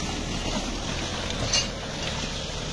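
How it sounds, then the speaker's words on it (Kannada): A 75 hp Mahindra Novo 755DI tractor tilling a farm field deeply gives a steady, loud engine drone with a continuous broadband rumble and no clear breaks, heard without voices. "ಆಮೇಲೆ ಇದು ರೋಡಲ್ಲಿ ಹೋದಂಗೆ ಹೋಗ್ತಾ ಇದ್ದಾವೆ ಈ ಟ್ರ್ಯಾಕ್ಟರ್ಗಳು ಆರಾಮಾಗಿ"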